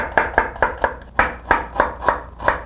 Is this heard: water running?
no